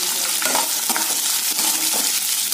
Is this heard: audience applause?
no